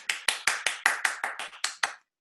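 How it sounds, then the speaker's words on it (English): One pair of hands claps about ten times in an even rhythm after a reading of a draft story. The claps are crisp and close, each decaying quickly, and stop abruptly into silence. "So let's do one more round of applause for Kim"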